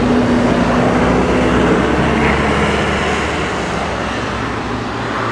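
A 2022 ARGO Frontier 700 8x8 amphibious ATV idles with a loud, steady engine rumble and drone that holds constant throughout.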